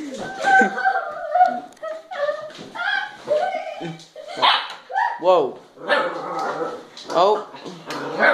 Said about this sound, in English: Attack of the puppy.